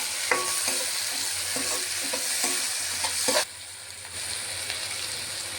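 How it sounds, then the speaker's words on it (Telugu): Chopped tomatoes hitting hot oil in a pan for prawn biryani, giving a steady loud sizzle with repeated scraping stirs that drops to a softer fry partway through. "అయితే టమాటాలు వేస్తున్నాము."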